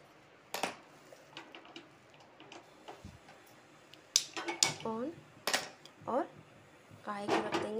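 A metal kadhai is set down on a gas stove, giving a few sharp clanks and knocks among quiet kitchen clatter, while someone talks in between.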